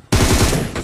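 A burst of rapid FAMAS automatic fire in the battle royale game BGMI, loud, close and sharp, a quick string of shots lasting under a second.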